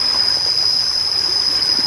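Water streams steadily across a flooded rice field, a continuous close rushing wash with no pauses, accompanied by a constant high-pitched whine.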